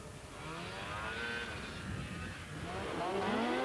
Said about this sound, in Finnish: tuotantokelkkaa liikuttaa lähes sadan hevosvoiman moottori